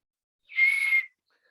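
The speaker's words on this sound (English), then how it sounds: "Give me my whistle." A single referee whistle blown to signal a false start penalty: one shrill, steady blast of about half a second, loud and clear against silence.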